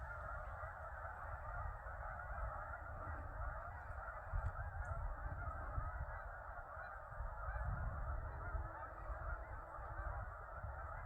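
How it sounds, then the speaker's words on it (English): A large flock of hundreds of geese honks continuously in the distance over old cornfields on a farm, a dense overlapping chorus with faint wind rumble beneath. "we got hundreds and hundreds of geese back there"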